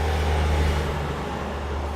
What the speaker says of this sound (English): Please excuse the loud truck outside.